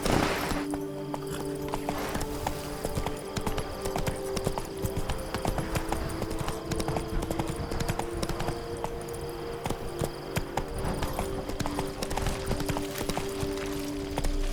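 The horse Roach trots in the video game Witcher 3. Hoofbeats clop in a steady, even rhythm, close and continuous throughout.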